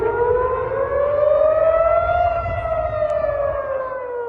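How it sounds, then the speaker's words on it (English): A wailing air raid siren in Tel Aviv drones steadily, its pitch rising slowly and then sagging, sustained and fairly loud with no voices. "Air raid sirens sound out in Tel Aviv"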